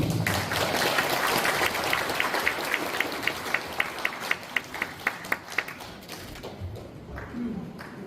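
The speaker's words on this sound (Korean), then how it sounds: "박수" An audience at the 105th anniversary ceremony for the founding of the Korean Provisional Government applauds in a steady wash of clapping, with a run of evenly spaced sharp taps partway through before the clapping fades.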